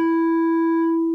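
A Nord Micro Modular synthesizer oscillator holds a steady, clean sine tone at moderate loudness for just over a second, with a faint click at each end and no voices.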